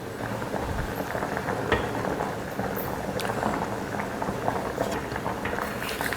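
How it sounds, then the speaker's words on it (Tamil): Rice cooking in a pot of boiling water for prawn biryani, a steady fizzing bubble and patter with scattered pops, fairly faint and continuous. "அரிசி போட்டாச்சு. ஒரு 3 நிமிஷத்துக்கு இது வேகட்டும்,"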